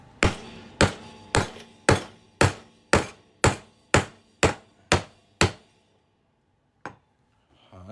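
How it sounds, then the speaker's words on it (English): A hammer strikes a punch through a 1 oz fine silver Memento Mori coin in ten sharp, evenly spaced metallic blows. The blows are close and loud and ring briefly, and one lighter tap follows after a pause. "I've never punched through a 1 ounce coin before with just a hammer"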